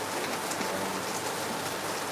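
Steady rain falling in Lagos, Nigeria, a dense, continuous patter close by and fairly loud, with no voices.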